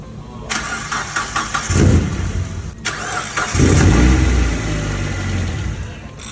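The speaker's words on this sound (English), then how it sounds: "All right, so car is running." A project car's engine cranks and catches, then revs in repeated surges before settling into a loud, rough run, heard close up with no talk.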